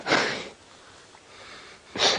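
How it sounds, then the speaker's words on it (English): Two loud, breathy sniffs, one at the start and one at the end, with a quiet pause between, as a young elephant snuffles up close on a safari drive. "He's giving us a good sniff."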